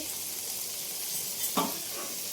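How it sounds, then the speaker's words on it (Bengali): Pointed gourd (potol) frying in oil, a soft, even hiss of sizzling with one brief utensil clink near the end. "ওই জন্য পটলগুলোকে ভেজে দিচ্ছি"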